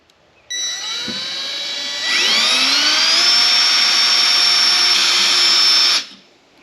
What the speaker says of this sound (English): The only problem is when I'm trying to drill back towards the center